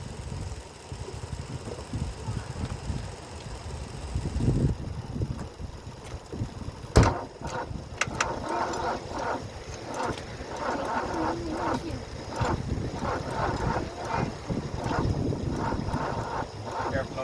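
A Mercedes W123 300D diesel that sat parked for 20 years is being cranked, with a steady run of rhythmic mechanical pulses over outdoor wind and hiss, following a short sharp clunk.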